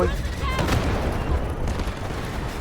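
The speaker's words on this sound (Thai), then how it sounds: "เฮ้ยระเบิด" Explosions and gunfire from the shooter video game Delta Force form a dense, continuous barrage of booms and crackling shots, with a voice talking over the battle noise.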